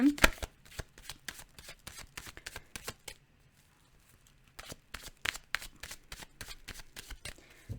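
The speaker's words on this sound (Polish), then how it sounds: "Jeszcze tylko przetasuję karty." Tarot cards are shuffled by hand in a run of quick riffling bursts, a short pause, then another series of crisp close shuffles in a quiet room.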